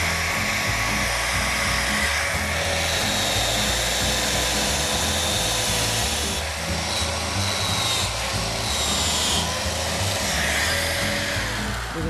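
Continuous high-speed whir of a power wire wheel cleaning a rubber shoe, with a steady, loud grinding hum and slight shifts in pitch as pressure changes.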